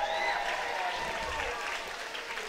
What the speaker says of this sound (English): crowd just acknowledging the Kenny Bain goal there